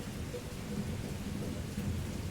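Steady, dense rainfall with a deep rumble of thunder rolling underneath, loud and continuous throughout, with no voices.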